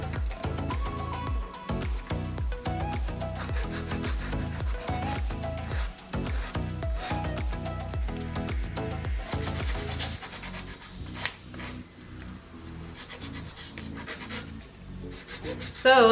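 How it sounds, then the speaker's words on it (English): A nail file rasps over an acrylic nail in quick, rhythmic back-and-forth strokes, close and soft, then slows to scattered rubbing. "then you'd file it to even it out"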